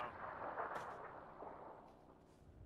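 Gunfire in the battle-royale shooter PUBG, a dense rattling burst of shots at moderate distance that gradually thins and fades over a few seconds, with no talking.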